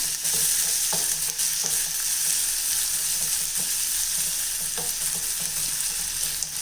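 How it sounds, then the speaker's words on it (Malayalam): Finely chopped onion with green chillies frying in a pan for a dal curry, a continuous close sizzle with occasional scraping stirs, no talking. "ഇതിലേക്ക് നമുക്ക് സവാള ചെറുതായിട്ട് അരിഞ്ഞ് വെച്ചേക്കുന്നത് ഇട്ട് കൊടുക്കാം"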